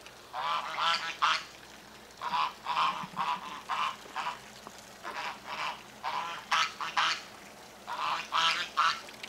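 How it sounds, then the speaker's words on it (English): A flock of geese honks insistently, clusters of rapid calls separated by short gaps, loud and nearby with no talking. "the geese over here making a lot of racket."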